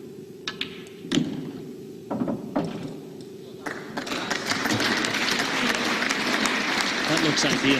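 An arena crowd bursts into sustained applause after a shot at the World Pool Championship quarter final, following a few sharp ball clicks, with a commentator talking over it.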